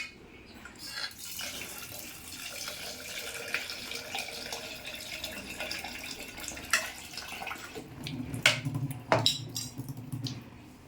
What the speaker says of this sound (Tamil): கருவாடை சுடு தண்ணியில் நல்லா ஊறிடுச்சு, க்ளீன் பண்ணிக்கலாம்.